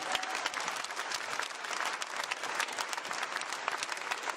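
Applause for the Class 40 podium at the Route du Rhum 2014 trophy ceremony, a crowd clapping steadily and densely, moderately distant and fairly quiet, without speech.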